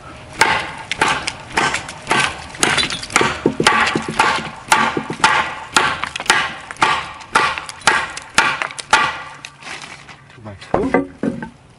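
A fixed-blade knife of CPM Magnacut steel chops into a 2x4 wooden board, giving a steady series of about a dozen loud, sharp woody thunks with splintering crackle, close by and evenly spaced.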